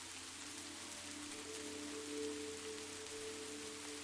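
Soft, steady rain patters against a window pane, a gentle and even wash of drops with a low hum beneath, quiet and close throughout with no voices.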